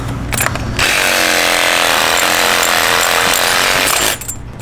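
A reciprocating saw cuts in a loud, continuous burst of about three and a half seconds with a harsh, buzzing rasp, starting and stopping abruptly with no talk over it.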